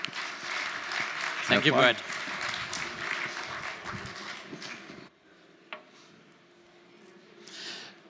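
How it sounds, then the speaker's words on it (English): An audience at a keynote talk applauds to welcome the speaker, a technology chief officer: several seconds of warm clapping that then stops abruptly, followed by a man's brief spoken thanks over a quiet hall. "Give a nice round of applause to Mr."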